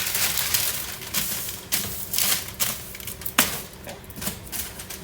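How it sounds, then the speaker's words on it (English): Parchment paper is torn from a roll in a home kitchen, a series of sharp, crisp rips and rustles up close, coming in uneven bursts without speech. "So I'll tear off another sheet of parchment paper."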